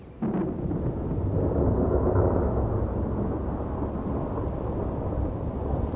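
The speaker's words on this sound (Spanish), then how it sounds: "Las tormentas producen vientos desapacibles y descargan sobre las mariposas gruesas gotas de lluvia" A low, sustained rumble of thunder rolls on steadily, loud and close, with a dense wash of storm noise and rain beneath it.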